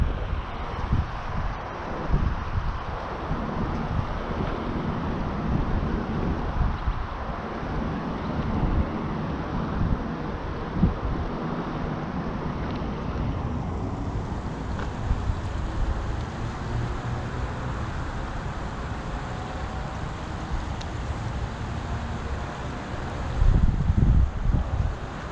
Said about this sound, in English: The wind ain't going to be letting up